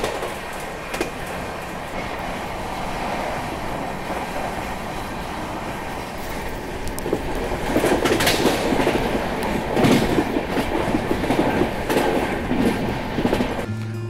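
The Kolkata Rajdhani Express overtakes the Magadh Express, a steady roar with rhythmic clickety-clack of wheels on rails that swells louder partway through, heard from inside the train.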